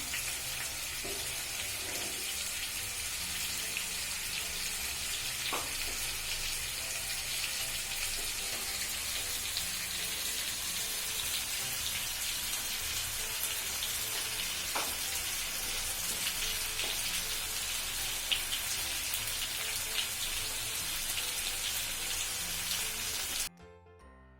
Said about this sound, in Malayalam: ഇത് നല്ലോണം ഗോൾഡൻ ബ്രൗൺ, 2 സൈഡിലും ഗോൾഡൻ ബ്രൗൺ ആണ് വരെ നല്ലോണം ഫ്രൈ ചെയ്തെടുക്കണം